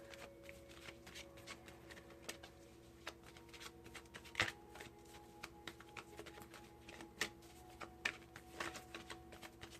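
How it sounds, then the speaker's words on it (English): Tarot cards being shuffled by hand at close range, quiet soft riffling and patting with irregular sharper taps against a faint steady background hum. "I'm going to give it a couple more shuffles because this is such a big read here for love."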